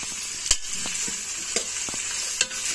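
Whole garlic and half a spoon of spices fry in hot oil with a bright, steady sizzle, while a spoon knocks against the pan in a few sharp taps.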